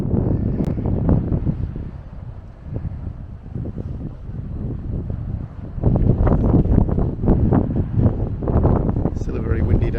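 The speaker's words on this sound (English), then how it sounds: "Still a very windy day today," Strong, gusty wind of about 25 mph at Cala Figueira on Majorca roars and buffets the microphone continuously, surging louder in the second half, with a person talking over it.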